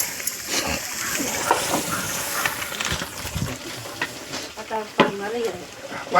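Mutton tempering for a village-style kanduri mutton curry sizzles and fries loudly in a pan while a spoon stirs it, giving steady crackling hiss with repeated scraping and splattering bursts, close and continuous.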